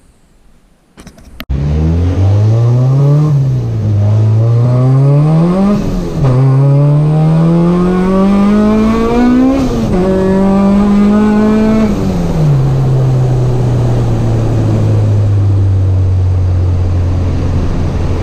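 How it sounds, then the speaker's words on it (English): A Honda Civic engine revs up hard through several gears on a cold road, each shift dropping the pitch before it climbs again, then settles into a steady drone. "Now I'm going to take the car out because"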